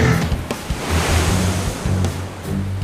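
Ocean waves break powerfully on a Southern California shore, a steady roaring wash of surf with low rumbling thumps, close and loud, no voices.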